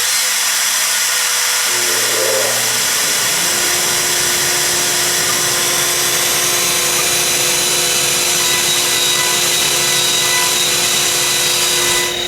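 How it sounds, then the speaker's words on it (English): A big old dust collector in a CNC woodshop roars loudly and steadily, spinning up within the first few seconds and then holding a constant whine and rush with no talking. "Though I hate the fact of my big old dust collector running for that long."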